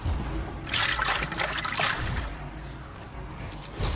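Water sloshes and trickles inside the waterlogged robot Lok in the Fortnite video game, a steady close gurgling wash with brief swells, heard alone for about four seconds.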